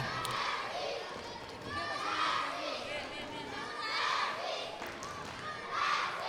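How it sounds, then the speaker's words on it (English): Spectators at a women's tchoukball match between Switzerland and Uruguay, a rising and falling crowd roar with shouting and chatter, punctuated by ball thuds, swelling in waves under a busy arena atmosphere. "you can hear the sounds of the crowd. They're loving this."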